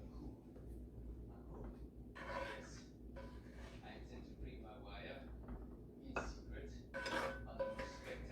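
Apple streusel scooped from heavy skillets into ramekins, with repeated scraping and clinking of a spoon against metal and ceramic in close, irregular bursts while a person talks over it.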